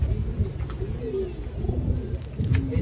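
Breeding pigeons in a loft being paired up give low, throaty coos in a steady rolling murmur, close and moderately loud against a constant background hum.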